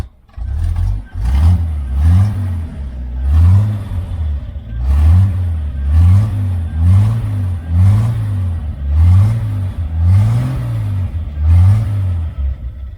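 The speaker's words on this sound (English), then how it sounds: "I guess this is just the way 6-cylinders sound with a" A 1978 Chevy Nova six-cylinder engine idles loudly and close by, with a steady rhythmic lope that rises and falls roughly every second or so, running alone without voices.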